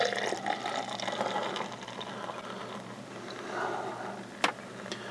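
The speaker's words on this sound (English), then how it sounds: "we gotta go for the professional pour" Lagunitas Born Yesterday beer being poured into a glass, with a steady liquid splash and fizz running for several seconds and a brief sharp clink near the end, close up.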